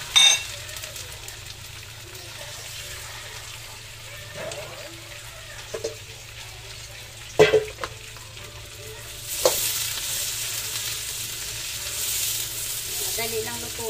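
Onions frying in a thin, quick-heating pan give a steady low sizzle with occasional clacks of stirring and a louder hissing burst toward the end, close and without talk.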